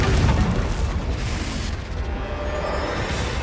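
Loud blasting explosion from the Confringo spell in Hogwarts Legacy, a heavy boom at the start that rolls into a sustained rumbling roar.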